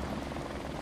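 Helicopter from the video game Modern Warfare Remastered, a steady loud rotor thumping and engine roar filling the short moment with no speech.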